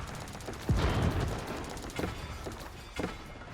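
Several sharp gunshots ring out over a steady rumble of Age of Empires IV battle action, with one heavy blast early and a few fainter shots spaced out after it.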